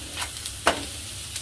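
Onions sautéed in a pan with turmeric and salt give a constant gentle sizzle, broken by a few sharp scrapes of a stirring spoon, with no voices.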